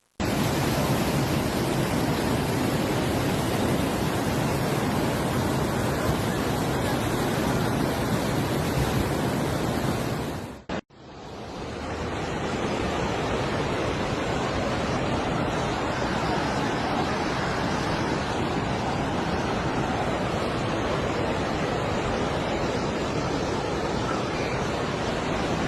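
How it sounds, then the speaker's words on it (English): Floodwater from an overflowing canal surges through a cemetery in Mersin, Turkey, a loud, steady roaring rush of water that continues without pause, with one brief cut partway through. "Water surged through the site, submerging graves and causing emotional distress for families and local residents."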